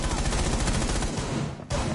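Rapid gunfire in the video game Rainbow Six rattles in a fast, loud burst of repeated shots, breaking off briefly near the end before resuming.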